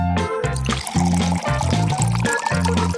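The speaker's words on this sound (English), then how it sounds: "And now, we can pour soda into the aquarium!" Soda poured into an aquarium, a steady splashing, gurgling stream of liquid heard close and loud throughout, with faint bubbling fizz over it.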